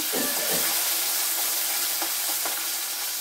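Urad dal and 7-8 broken green chillies frying in oil in a pan give a steady, close sizzle, with a few soft scraping stirs near the start and middle and no voices.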